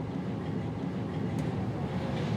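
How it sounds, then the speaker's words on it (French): Paris metro line 10 train arriving in a station: a steady, dense rumble of the train rolling in, with a brief bright click partway through and no voices. "La rame est arrivée"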